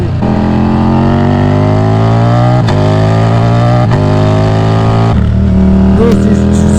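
A Ducati Diavel V4 motorcycle with an Akrapovic full race exhaust revs hard and close, its loud, rising roar climbing in pitch, briefly dipping twice, then dropping back and swelling again.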